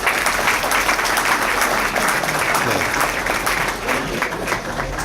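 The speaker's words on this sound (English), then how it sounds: "Give yourself a round of applause." Applause from the audience at a business and achievement awards luncheon, dense and steady clapping from a sizable crowd, fairly loud throughout and tapering slightly at the end.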